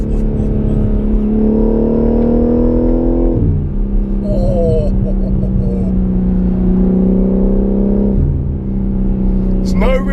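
A modified BMW M3 Touring revs hard while driving, its engine note climbing in pitch, dropping off, then rising again in a loud, sustained drone with road rumble underneath and a voice talking over it.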